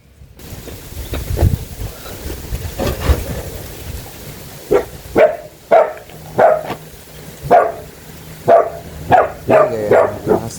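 A dog barks in a rapid, regular string of short, sharp barks close by, outdoors in Mauritius where duck meat is being cooked, over a low rumbling background.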